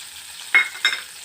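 Ginger, garlic and chili frying in a container, with a steady sizzling hiss and two short bursts of stirring scrapes close by, no voices.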